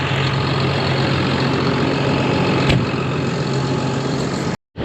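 A farm tractor engine idles steadily close by, a continuous low rumble with a constant hum and no talking, ending in a sudden brief cutout.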